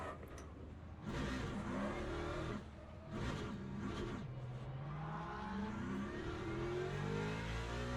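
Porsche race car engine in a racing video game at Spa or Fuji, revving loudly and continuously with rising and falling pitch sweeps as it accelerates and shifts, close and dominant throughout.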